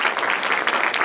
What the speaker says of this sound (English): I'd like to ask for one last round of applause for the entire chamber board here